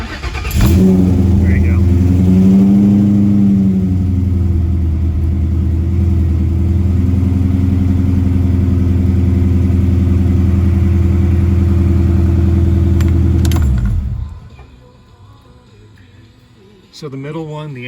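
A Coyote-swapped car engine cranks and fires, then settles into a steady, loud idle running close by for about thirteen seconds before cutting off abruptly; a brief spoken remark comes early on.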